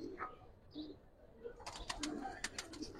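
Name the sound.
Giribaz pigeons cooing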